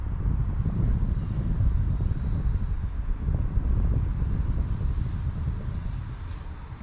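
Outdoor wind rushes and buffets steadily against the microphone as an Eachine E119 6-axis gyro toy helicopter flies in a light breeze, a continuous low rumble with no clear speech.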